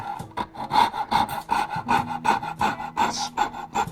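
A small jigsaw cuts an opening in a wooden cigar box, a close, loud, rapid rasping buzz pulsing in an even rhythm throughout.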